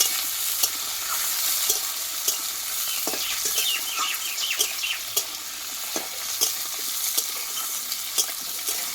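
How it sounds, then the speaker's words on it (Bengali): Pieces of ginger and a large tomato fry in oil in a pan, giving a continuous crackling sizzle with frequent small pops and stirring clicks, close and steady, with no voices. "এইবার দেবো একটা টমেটো বড় সাইজে দিয়ে আমি একটু ভেজে নেবো তেলে"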